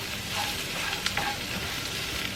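Onions and garlic sizzle in a frying pan as they are stirred toward translucency, a steady close crackle with a few soft utensil scrapes and no talking.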